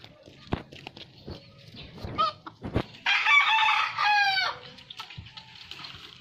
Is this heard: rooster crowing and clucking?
yes